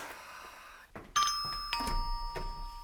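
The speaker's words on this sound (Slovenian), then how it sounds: "Kaj ti si slišala zvonec?" A doorbell in a 1980s apartment rings: a click, then a bright two-tone chime whose notes ring on and decay, fairly loud and alone.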